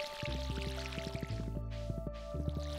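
Watering crops in the farming video game Stardew Valley, with soft repeated watering-can splashes and drips over a steady, faint game backdrop with tonal music.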